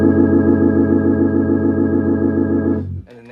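An organ is played with the V3 vibrato setting, holding a loud, steady chord with a fast, pulsing wobble for about three seconds before it cuts off.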